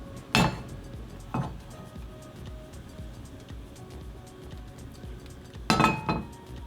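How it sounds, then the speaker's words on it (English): Two pans being set on a stove clink and clatter in a few short metallic knocks, one near the start and a double clank near the end, with quiet room noise between. "Next, we get 2 pans, a bit of oil in them."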